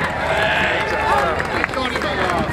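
A crowd at the Rochester Dickens Festival 2013 parade claps and cheers for the passing band, a dense, loud wash of applause and chatter with voices close by throughout.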